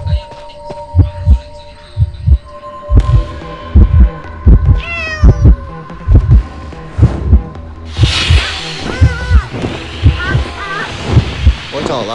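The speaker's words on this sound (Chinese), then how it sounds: "心跳" A chase in a video game is accompanied by a looping heartbeat warning, regular paired thumps pulsing throughout alongside game music and tones, with a voice speaking over it.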